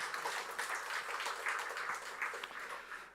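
A church congregation at a Sunday service claps together to close a prayer, a fairly soft, even patter of many hands lasting throughout.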